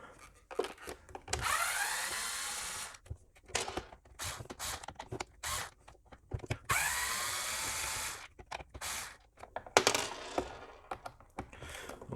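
A powered driver whirs in repeated bursts as screws are backed out of a plastic steam mop housing, close and fairly loud, with short pauses and small clicks and rattles between bursts.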